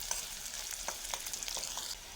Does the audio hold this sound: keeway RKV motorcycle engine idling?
no